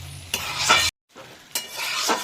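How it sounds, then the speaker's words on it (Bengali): Katla fish heads and cabbage with sprouted garlic are stirred in a pan over a high flame, making two short bursts of scraping and sizzling separated by a brief silence. "ভালো করে এটাতে মিক্স করে দিতে হবে।"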